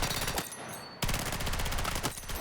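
Automatic rifle fire from a 30-round magazine in the shooter Battlefield 6, two rapid sustained bursts of close, loud shots separated by a brief pause.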